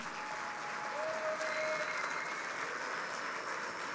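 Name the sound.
audience applause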